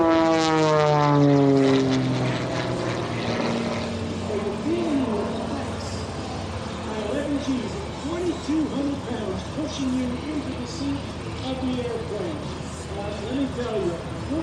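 A propeller aerobatic airplane performs a torque roll at the Westmoreland County Airshow, its engine droning loud with a falling pitch, then pulsing and warbling as power comes back on, while a voice talks over it.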